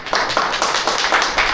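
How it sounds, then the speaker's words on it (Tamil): Loud rhythmic clapping by participants at a legal training class in Kanchipuram, a close, even pattern of sharp claps in a steady beat throughout. "பலத்த கைத்தட்டோட"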